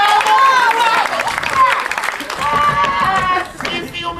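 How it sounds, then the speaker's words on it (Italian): A theatre audience applauds the hero during a staging of Menander's comedy Dyskolos, with brisk clapping running throughout beneath loud, continuous voices on stage. "E adesso, signori, vi invito tutti a un grande applauso per il nostro eroe!"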